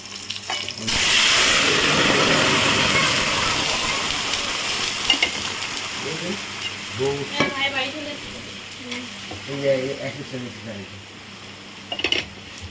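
Boiled vegetables go into hot oil in a pan with a sudden loud burst of sizzling that slowly fades, then stirring scrapes follow while a person talks over the frying.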